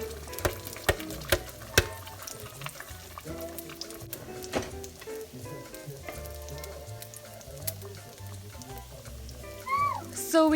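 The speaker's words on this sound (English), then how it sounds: "So then I have this oil hot and the salsa is all blended, so I'm just going to add this in and start frying our salsa." Blended chile salsa hits hot oil and fries with a loud sizzle and spatter, a few sharp pops at the start settling into a steady crackle, with music in the background.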